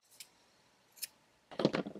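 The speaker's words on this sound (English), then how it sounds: "we have these 2 yarn ends that we can just snip off" Scissors snipping two yarn ends during crochet, two quick faint snips followed by a closer, louder rustle of handling, all quiet and close.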